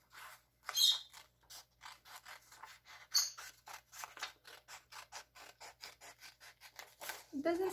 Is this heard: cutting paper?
yes